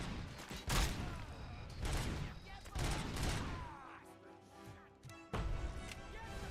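Bursts of gunfire striking the player in the video game Robocop: Rogue City, several loud volleys in quick succession with brief gaps between them.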